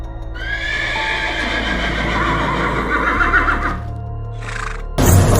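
Four tall, shining black horses pulling a royal carriage neigh loudly, their hooves clip-clopping underneath, ending with a sudden burst of noise.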